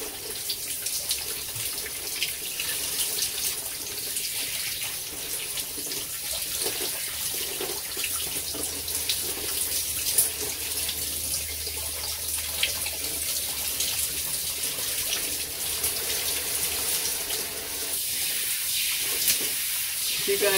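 Steady rush of tap water running into a sink while a face is rinsed, a continuous close hiss lasting throughout with faint handling sounds.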